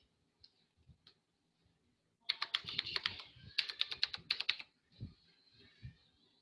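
Password entered on a computer keyboard, a quick close burst of about a dozen crisp key clicks in two rapid runs, framed by a few softer isolated taps in a quiet room.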